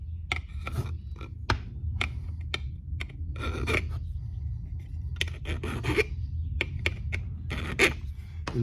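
A metal file rasps over burrs on guitar frets while the frets are dressed on a newly built neck: short, close scraping strokes in irregular bursts, some quick and light, others longer, with no talking.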